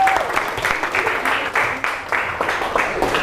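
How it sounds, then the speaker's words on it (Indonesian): Applause from a class audience in an Indonesian school teaching session, a short burst of steady group clapping lasting a few seconds, fairly loud and even. "kasih aplaus yang meriah"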